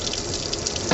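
Hot and cold water running steadily from the tap of a folding sink in an Amtrak Viewliner roomette, a close, continuous hiss and splash that stops abruptly.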